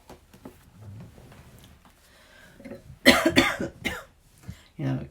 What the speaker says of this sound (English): Coughs take on strange meaning these days, even when I'm definitely not sick.